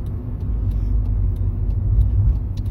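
Opel Astra 1.6 16V Ecotec engine from 1997 idling along at low revs in town, a steady, muffled low rumble heard from inside the car with no voices.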